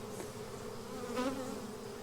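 A swarm of honey bees buzzes in a continuous, even drone at a hive corner, many bees flying in and fanning together, fairly close with no voices.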